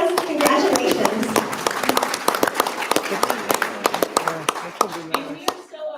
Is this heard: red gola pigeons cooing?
no